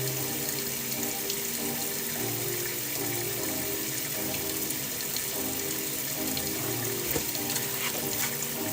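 Cold water runs from a tap to rinse tie-dyed fabric, a steady, close splashing stream that continues evenly throughout with no voices.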